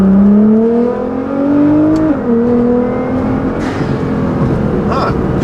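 Tuned 2015 Nissan GT-R fitted with a Meisterschaft exhaust and GFB blow-off valves, accelerating with traction control holding back power: a loud, close engine drone rising steadily in pitch, dipping once at a shift, then climbing again.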